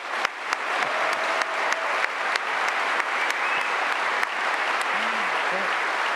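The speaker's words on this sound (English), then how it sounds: "So I would like to ask you for another applause" A crowd claps steadily in sustained applause, dense and even, with a few sharper claps standing out near the start.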